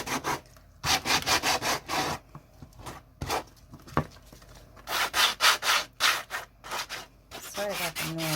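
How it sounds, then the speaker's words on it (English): Quick rhythmic bursts of sanding an epoxy resin feather with sandpaper on a sanding block, rough scraping strokes in fast runs with short pauses between them, close up, and a brief voice near the end. "I just got a little piece of sandpaper that I'm going to wrap around the sanding block"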